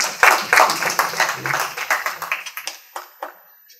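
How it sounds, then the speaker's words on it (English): A conference audience applauds a keynote speaker after an award mention; dense clapping at first, then thinning into a few scattered, distinct claps before stopping. "I think it deserves a big round of applause."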